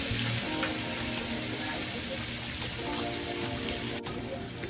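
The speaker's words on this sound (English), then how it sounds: "we just gonna saute up these onions until they get nice" Onions sauté in a pan with a constant close sizzle and crackle, broken by faint clinks and stirring, ending in a brief sharp knock.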